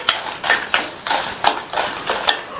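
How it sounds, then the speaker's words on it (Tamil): Dried red chillies frying in hot oil in a pan over a medium flame for a Tamil chutney, giving repeated bursts of crackling sizzle and stirring scrapes in a steady rhythm, close and fairly loud with no talk. "அதுல 5 காஞ்ச மிளகாவை சேர்த்துட்டு மிதமான தீயில வச்சு இந்த மிளகாவை"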